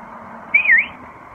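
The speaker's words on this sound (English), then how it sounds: "the easy way is just to give it a quick whistle" A quick whistle aboard a sailboat, one short rising-and-falling tone lasting about a quarter second over a steady background hum.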